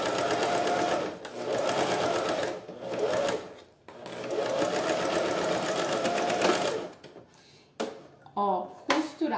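Sewing machine stitching a synthetic-fabric necessaire bag, running loud and steady in long bursts with short pauses, then stopping; a voice talks quietly near the end.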